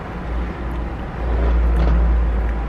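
A 2002 Honda car engine revving outside, a low droning rumble that swells louder midway and holds, with no talk over it.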